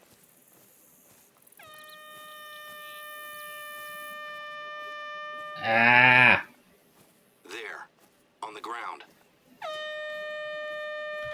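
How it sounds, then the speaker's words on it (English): Air horn app blasts in The Hunter: Call of the Wild, long loud tonal honks sounding twice with a bleat-like call and short noises between, while a person talks briefly. "It's like a horn or something."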